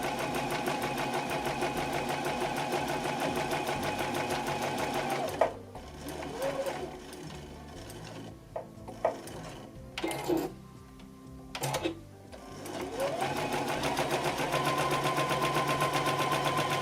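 Sewing machine stitching Christmas tree fabric at a quarter-inch seam: rapid steady needle chatter, close and loud, breaks off for a pivot with a few clicks and thumps, then resumes at full speed.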